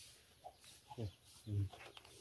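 Hens and a breeder hen cluck softly in a few short bursts, fairly close, against a quiet background.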